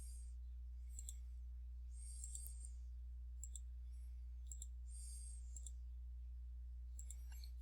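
A computer mouse clicks faintly in a quiet room during Autodesk Inventor CAD work, a scattered series of soft single and double clicks over a low steady hum.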